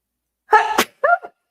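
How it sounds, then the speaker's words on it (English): A live show host lets out a single loud, close sneeze, followed by a short voiced exhale. "I'm so sorry to have to sneeze on air like that."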